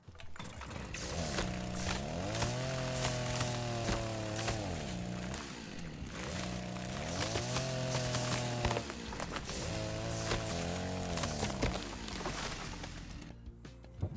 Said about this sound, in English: There's a few trees in this hill I'm going to hit with the chainsaw